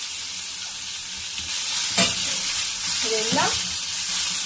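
Coconut and tomato frying in butter for chicken sukka give a steady close sizzle with stirring scrapes, and a voice speaks briefly near the end.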